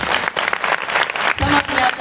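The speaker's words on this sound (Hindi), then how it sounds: "हेबो जोर की ताली मारिबा" Loud applause from a church congregation at a prayer gathering, dense clapping mixed with crowd noise and voices, close and sustained throughout.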